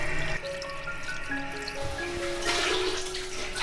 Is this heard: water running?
yes